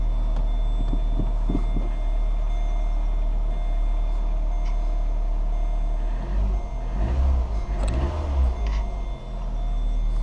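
A Mini Soho Edition engine with 70,000 miles idling with a low, steady rumble and throb, rising briefly toward the end, with faint beeping over it.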